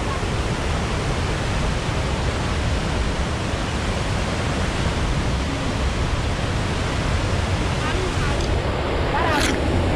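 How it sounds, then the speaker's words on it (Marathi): Heavy rushing water roars at the base of a swollen waterfall, a loud, continuous broadband wash that stays constant and unbroken from start to finish. "आम्ही धबधब्याच्या आता एकदम जवळ आलोय, पायथ्याशी आलोय"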